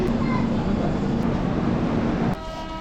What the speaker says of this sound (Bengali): 2 নম্বর প্ল্যাটফর্মে ট্রেন এসে ঢুকেছে